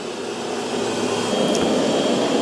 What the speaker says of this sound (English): it increases suction when it's on carpet